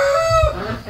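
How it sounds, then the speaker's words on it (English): A rooster crows once, fairly close, in a short burst among clucking fowl, with a duck-raising setting in the early hours around 3 AM. "Oh, there's the rooster."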